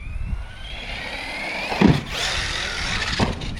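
A Kraton RC car launches off a low ramp and flips backward, its electric motor whining steadily throughout with two sharp impact thumps as it lands and bounces.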